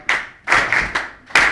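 Hands clap a steady beat behind an a cappella rap, with three bursts of claps close by and no other sound around them.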